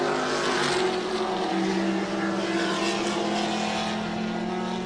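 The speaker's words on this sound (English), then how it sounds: "They'll be coming in hot on the 35 car, a 72 Alfa Romeo GTV" A 1972 Alfa Romeo GTV race car screams past at speed during a vintage road race, its engine note loud and sustained as it sweeps by the listener, other cars droning in the background.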